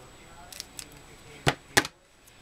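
Scissors cut a piece of card in half: two sharp, close snips in quick succession after a few faint handling taps, with quiet surroundings.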